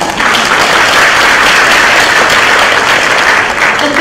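Audience applause at a public lecture in Indonesia, a steady, dense wash of many hands clapping, loud and sustained throughout with no talk over it.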